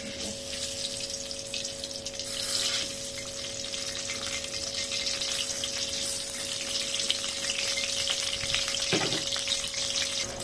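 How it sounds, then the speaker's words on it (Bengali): Eggplant slices frying in a generous amount of hot oil in a pan, a steady close sizzle and crackle throughout with a brief stirring or scraping sound near the end. "আমার বেগুনটা এক পাশ ভাজা হয়ে গেছে"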